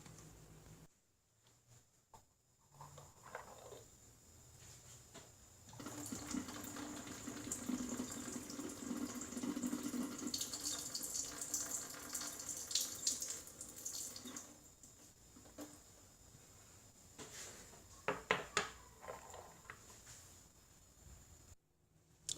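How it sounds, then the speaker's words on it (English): Water poured from Yixing clay teapots runs in a steady trickling stream for several seconds, then stops and starts again in shorter bursts, close and fairly quiet, with no voices. "we'll take a look at what the pour looks like."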